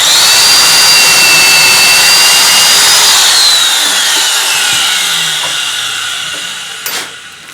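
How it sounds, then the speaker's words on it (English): A large corded electric drill whines loudly as it bores dowel holes into wood, its pitch sagging under load before it stops with a short knock. "And we just drill down to the tape line."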